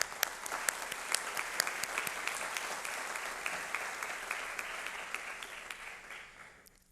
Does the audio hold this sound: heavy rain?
no